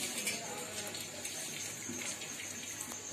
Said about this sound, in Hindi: इसे हमें छाननी से इसका पानी निकाल लेना है।